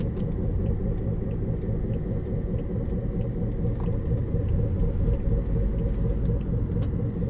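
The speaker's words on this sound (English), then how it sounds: "there's this awful like rotational grinding kind of noise" Steady, continuous rumble of a junkyard BMW driving, with a low rotational grinding running underneath the road and engine noise, no voices.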